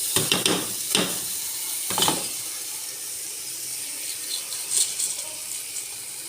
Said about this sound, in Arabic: الرز بعد ما قلبناه حلو مع البهارات